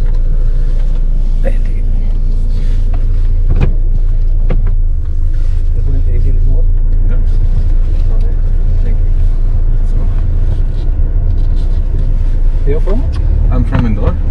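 Jeep Compass Trailhawk crawling over an off-road course, a loud steady engine and tyre rumble with bumps and knocks from the rough terrain throughout, with people talking over it.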